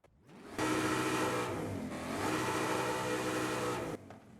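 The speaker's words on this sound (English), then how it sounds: "So quick rev check real quick." A Ford F150 Raptor R engine in Forza Horizon 5 revs hard: a sudden loud rise to a sustained roar, a brief dip and swell, then an abrupt cut back toward idle.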